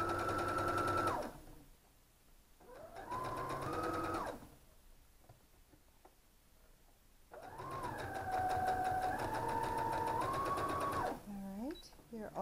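A sewing machine stitches cross-grain fabric strips onto the sides of a 24-inch double-outlined five-pointed quilt star, running in steady bursts with pauses between, while a person talks over much of it.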